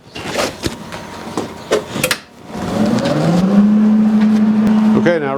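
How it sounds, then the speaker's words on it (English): A welder is switched on in a workshop while horseshoes are held in place with magnets. A few clanks and handling knocks come first, then a steady electrical hum rises and holds, moderately loud and close. "I'm going to power on my welder"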